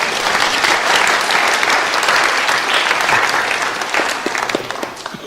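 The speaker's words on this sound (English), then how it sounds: "could you first, everybody, please give them a round of applause?" A church congregation gives a sustained round of applause, dense and steady for several seconds before tapering off slightly toward the end.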